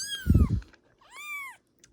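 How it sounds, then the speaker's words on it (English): A stray mother cat gives two distinct meows, the second higher and drawn out, close and clear, with a brief low thump between. "she's like meowing"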